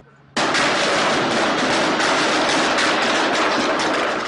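Gunfire erupts suddenly during a police standoff, captured on a bystander's handheld camera: a loud, dense, continuous barrage of shots close by, starting abruptly after a moment of quiet and sustaining without pause.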